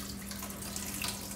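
Tap water runs steadily over mushrooms being rinsed in a kitchen, a soft continuous hiss and splash over a low hum, fairly quiet and with no talking.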